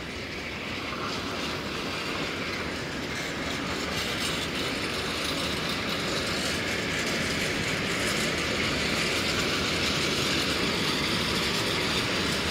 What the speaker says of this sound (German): dieser Zug fährt jetzt ab